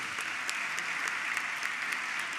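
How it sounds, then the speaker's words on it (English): Steady applause from an audience at a 2018 State of the County address, dense continuous clapping with no pauses, moderately distant and even in level throughout. "Let's give her a round of applause, please."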